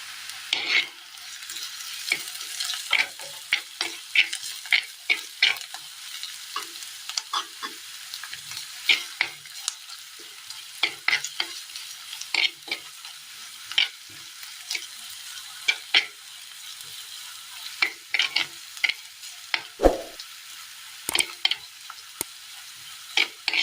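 Softened ginger, garlic and small Kanthari chilies fry in a pan for a Kerala recipe, a steady sizzle broken by frequent scraping stirs of a spoon against the pan.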